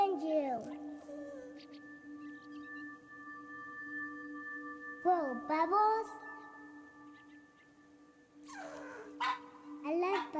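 The dog Manju in the video game That Dragon, Cancer gives a few short barks and whimpering yips over a sustained musical drone, in three separate bursts, with a voice speaking briefly.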